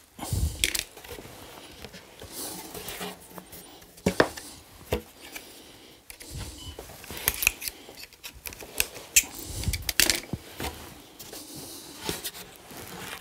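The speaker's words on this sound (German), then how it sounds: "So, jetzt muss ich die Kante schneiden" Intermittent snipping and scraping as a wooden inlay edge on a chessboard is trimmed, quiet and close, with short pauses between cuts.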